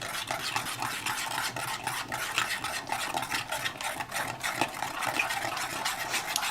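Agar-agar being stirred into hazelnut milk, a dense, continuous swishing and rapid whisking with close, rhythmic scraping and no other sounds.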